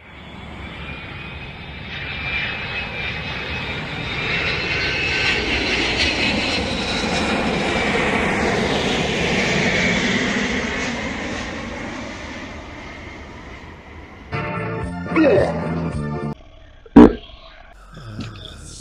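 A fixed-wing airplane engine drones loudly and steadily for many seconds, rising and then easing as it passes, followed by short bursts of clatter and handling noise near the end.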